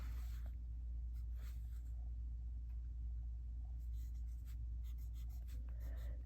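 Waterman Carene fountain pen with a medium nib scratching across paper, faint soft strokes over a steady low room rumble.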